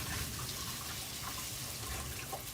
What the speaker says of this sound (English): Let me give my hands a little rinse.